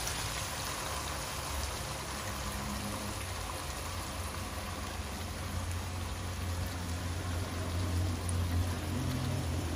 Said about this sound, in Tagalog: lagyan natin ang ating tubig.